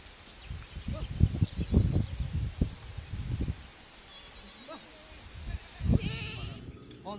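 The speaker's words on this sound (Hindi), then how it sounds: "हम भेड़ बकरी चराते हैं सर" A large flock of sheep and goats tended by a goatherd in rural Rajasthan bleats repeatedly in overlapping calls, fairly close, with outdoor rustle between bursts and some voices mixed in.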